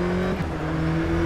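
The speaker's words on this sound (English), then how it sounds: "let's give it some revs" Race car engine revving in the rFactor 2 racing game, likely a McLaren Senna GTR or Aston Martin GTE, a loud, steady tonal drone that dips and climbs in pitch briefly.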